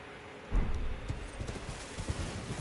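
Hooves clip-clop on the ground as a horse moves around in the Dark Souls open world, a few irregular muffled thuds over a soft, steady ambient backdrop, fairly quiet and without talk.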